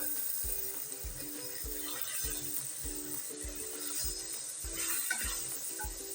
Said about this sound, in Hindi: हमारा गोश्त अच्छे से मैंने भून लिया। अब हम इसमें डालेंगे भिंडी।